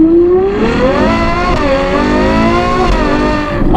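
A Novitec Ferrari 812 N-Largo S with a naturally aspirated V12 roars loud and close, its pitch climbing under hard acceleration, with gear shifts dipping the tone and induction noise rising again.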